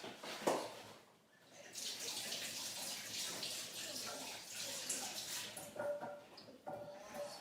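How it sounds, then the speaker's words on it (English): Hands rinsed under a running kitchen tap, a steady close splash and flow of water that briefly dips, then continues with faint handling noises. "just going to rinse my hands."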